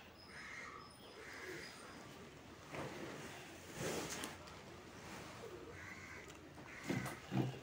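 Fantail pigeons kept for sale in Kerala coo softly and intermittently over a low, steady background murmur, with a few slightly louder bursts toward the end.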